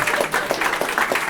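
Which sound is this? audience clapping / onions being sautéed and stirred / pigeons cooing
audience clapping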